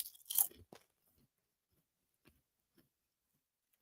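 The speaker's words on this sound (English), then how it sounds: "You hear that fabulous crunching from Crater." Crunchy Frosted Mini Wheats cereal crackles loudly in one close burst of chewing, followed by a few faint, scattered crunches separated by near silence.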